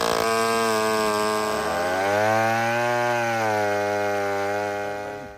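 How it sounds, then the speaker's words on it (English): A vintage Homelite C51 77cc chainsaw runs close by, its engine revving steadily and loudly. The pitch bends and wavers mid-run before easing off at the end, with no voices. "We get the Homelite C51 out and run it up against this and time it."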